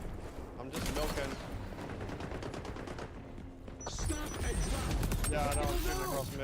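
Gunfire in a first-person shooter game comes as dense clattering bursts of rapid shots, some near and some distant, mixed with mechanical clicks and brief voices.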